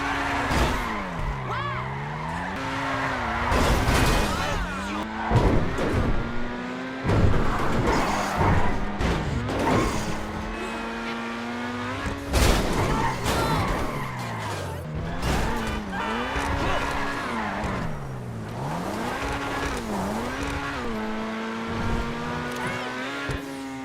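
A Lampadati Corsita sports car in a video game skids and spins, with engine revs repeatedly swooping up and down over tire squeal and scraping bumps, loud and continuous throughout.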